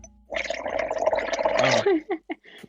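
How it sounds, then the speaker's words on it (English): Bubbles blown through water make a continuous gurgling, bubbling burble for nearly two seconds, rising and close, followed by a few short wet blips as it trails off. "Oh. I'm blowing bubbles."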